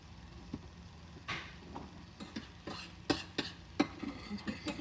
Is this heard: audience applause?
no